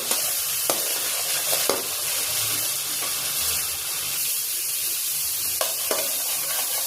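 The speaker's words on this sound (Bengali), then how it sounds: "1 টেবিল চামচ রসুন পেস্ট। এটা খুব করে সটে করে নিব" Garlic paste sautés in a pan for a Bengali koi fish mustard curry, giving a steady close sizzle with a few sharp scrapes of a spatula being stirred through it.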